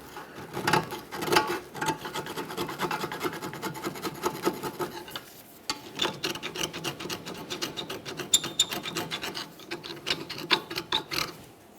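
Metal scraper rasping corrosion from the rear hub mating surface of a 2012-2015 Honda Civic, a close, continuous gritty scraping in rapid back-and-forth strokes with a brief pause midway.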